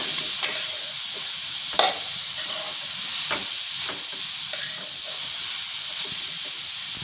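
Grated carrots for gajar halwa being sautéed in a pan, with steady frying hiss and sizzle broken by several sharp scraping stirs of a spoon, close and alone with no talk.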